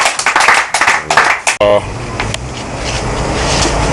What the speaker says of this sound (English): Give a clap offering to the Lord